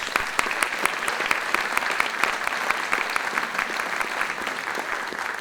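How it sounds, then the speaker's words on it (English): Steady, dense applause from a crowd, many hands clapping at once without pause, fairly loud and continuous throughout. "let's give them all a big round of applause."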